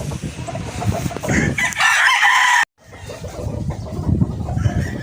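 A pure Boston Roundhead gamecock rooster crows loudly and close at a game farm in Batangas, one full cock-a-doodle-doo ending abruptly, with clucking and farm fowl sounds around it.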